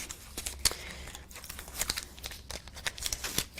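Adhesive backing paper is peeled from tape during card crafting, giving a few sharp crinkling, tearing rustles close to the ear amid quieter handling noise.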